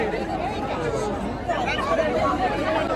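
Dense crowd chatter fills the air at the Dnyaneshwar Mauli palkhi procession, a steady babble of many voices close and constant throughout.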